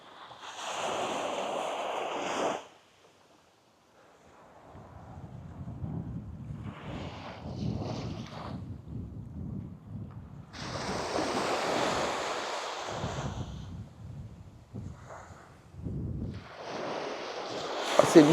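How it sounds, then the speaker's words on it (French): Strong wind blowing by the sea at Málaga, gusty roaring bursts with surf washing in, rising and falling in loud waves of noise over an otherwise calm shore. "il y a énormément de vent"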